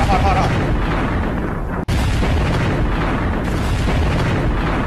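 Explosions in the Minecraft video game rumble as a loud, continuous booming bed across the whole stretch, broken by one sharp cutoff, with a voice talking over it at times.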